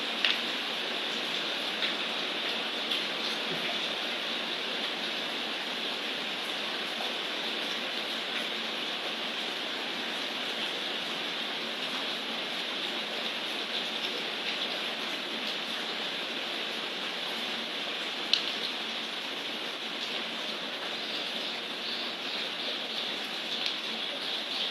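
Heavy rain pours down steadily, a dense, even hiss of falling water that holds at a constant level throughout with no breaks, heard alone with no voices.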